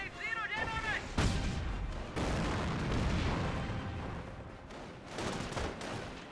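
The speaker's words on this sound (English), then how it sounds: "Some decoy barrage on the Panther carcass" In Company of Heroes, a decoy artillery barrage falls on a Panther tank wreck, repeated heavy thuds and bursting impacts rumbling under a commentator's ongoing talk.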